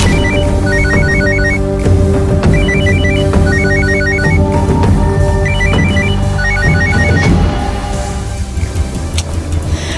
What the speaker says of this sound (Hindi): फोन बज रहा है पर वो पिक नहीं कर रहा है।